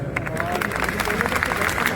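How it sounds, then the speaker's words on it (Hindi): Audience at a comedy roast show breaking into applause, a steady patter of individual claps over crowd murmur, moderately loud and continuous. "अब यहाँ के लौंडे किसके लिए ताली बजा रहे हैं?"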